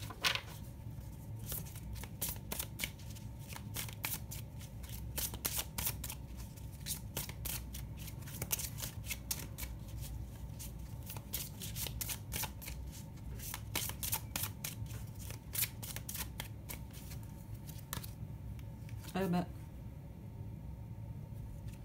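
Tarot cards are shuffled at close range, a steady run of soft riffling flicks and papery slaps that continues for over twenty seconds, with a brief sharper rustle near the end.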